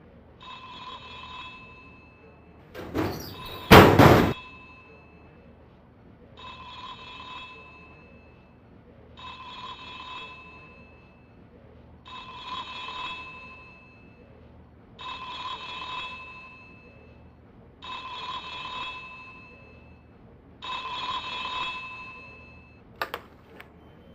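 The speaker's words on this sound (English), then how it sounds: "That's your phone." Telephone ringing in the X-Files video game, a regular series of electronic ring bursts spaced a few seconds apart, moderately loud, broken early by a sharp loud clatter.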